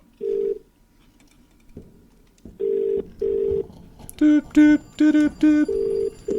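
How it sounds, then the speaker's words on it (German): In The Cat Lady video game, a phone is dialed and a call is placed. Several steady beeps and dial tones give way to a quick run of clipped electronic tones, all clear and close with no talking. "So, jetzt stelle ich mich genau an den Tisch und rufe an."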